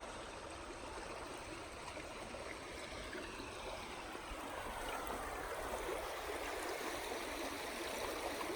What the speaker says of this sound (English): The fun part about having a decently flowing creek is you can fill up your water bag super fast.